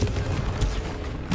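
Confringo fire spell blast in Hogwarts Legacy: a dense, loud, roaring burst with booming low rumble and a couple of sharper cracks layered through, continuous for the whole moment.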